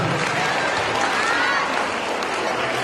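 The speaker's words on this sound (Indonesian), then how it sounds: "Aplaus untuk Mas Bambang, seluruh moderator kita." An audience at a school student motivation event applauds, dense continuous clapping that fills the room loudly and evenly for the whole stretch.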